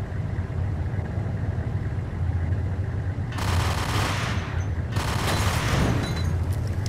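Gunfire in the video game Max Payne crackles in two dense bursts of rapid shots over a steady low game rumble, loud and close, with short quieter gaps between them.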